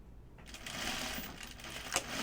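An electric sewing machine starts up and runs at a steady fast stitching whir while stitching an apron dress, with a brief knock near the end, close and moderately quiet.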